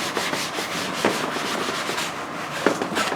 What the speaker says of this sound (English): I don't think you can hear me talk when I'm erasing.